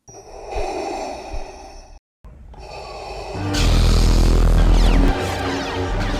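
Slow, heavy breathing, loud and close, swelling into a deep rumbling roar partway through with a brief silent gap before it.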